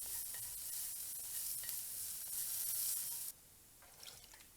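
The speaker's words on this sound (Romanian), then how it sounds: "prăjit până se rumenește" Ginger and garlic fry in hot oil with a loud, steady sizzle close by, which drops suddenly to a quieter crackle partway through.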